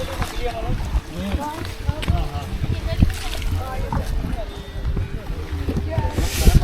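Waterfall water at the Bhangarh fort flows and splashes in a steady outdoor wash, with people talking over it throughout.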